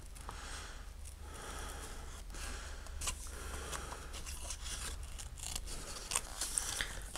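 Scissors snipping through card paper for a handmade greeting card, close and soft, with a steady series of short crisp cuts.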